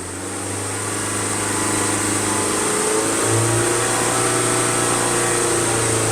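A 2021 Ford Transit Connect engine held at high idle around 3,000 to 4,000 RPM makes a steady, loud, even drone that builds slightly at the start and then holds constant, with no speech.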